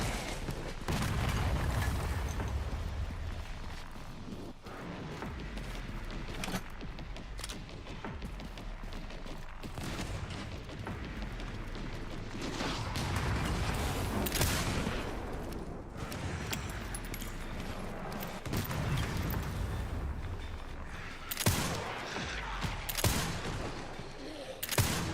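Mortar men in the Resident Evil Requiem video game fire, giving repeated booming blasts and crackling bursts of gunfire over a dense, continuous game soundscape that lasts about twenty-five seconds.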